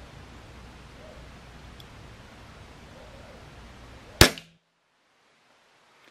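A single sharp shot from a Crosman 2400KT air pistol fitted with a TKO muzzle brake, one crisp crack against a low hiss, followed by near silence.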